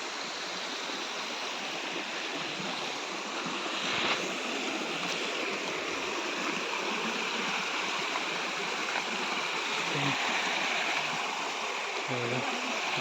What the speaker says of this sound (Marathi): पाण्याचा आवाज पण भरपूर आहे